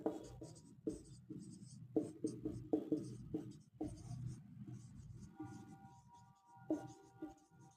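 Pen writing out a Class 9 NCERT number-system math solution, steady scratchy strokes in close bursts with short pauses, while someone talks over it throughout.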